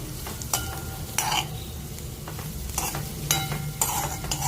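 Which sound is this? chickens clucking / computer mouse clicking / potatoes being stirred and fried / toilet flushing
potatoes being stirred and fried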